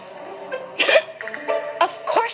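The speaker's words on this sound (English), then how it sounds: "Of course I have the hiccups." A man hiccups repeatedly, several sharp, close, voiced jolts at uneven intervals, loud and clear without other talk.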